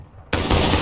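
A musket volley in the War of Rights game, fired on command, erupts suddenly after a near-silent moment as a loud, dense crash of many shots that rolls on briefly.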